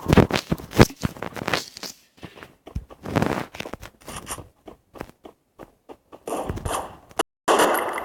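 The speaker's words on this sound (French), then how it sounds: "je vais utiliser toutes mes balles à blanc" Gunfire in the mobile shooter Free Fire comes as rapid bursts of sharp, crackling shots, with gaps and quieter scattered pops between them.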